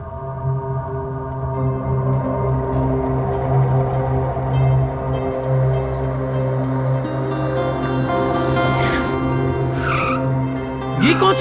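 A car skids on the road with tyres squealing and the engine rumbling steadily. Sharp squeals rise near the end over background music.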